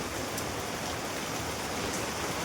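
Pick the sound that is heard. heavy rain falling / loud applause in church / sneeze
heavy rain falling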